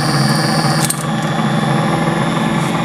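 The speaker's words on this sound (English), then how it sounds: "Listen to the motor." A pulse motor charging a sulfated battery whirs with a steady, loud mechanical hum and buzz, holding constant with a brief tick near the start and no talk.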